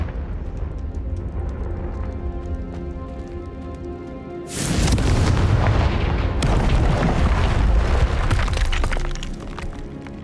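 A Confringo explosive spell bursts in Hogwarts Legacy, a sudden loud booming blast with a shattering, crackling debris tail that rumbles on for several seconds over an underlying game music bed.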